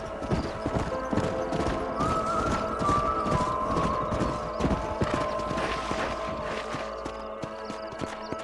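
Horses' hooves clip-clop steadily in Red Dead Redemption, a dense run of close, rhythmic hoofbeats continuing throughout, with a brief whinny-like tone and wind-like noise underneath.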